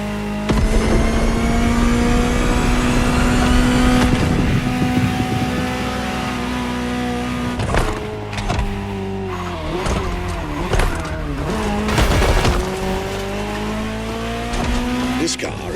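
Ferrari 288 GTO engine in The Crew Motorfest, a loud sustained drone that shifts pitch as revs rise and fall, with tire squeal and a few sharp transients, under a speaking voice.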